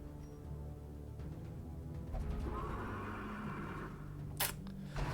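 A horse neighs in the dark fantasy game Darkest Dungeon, a drawn-out whinny rising over a low, murky ambient rumble, followed by a few sharp clicks.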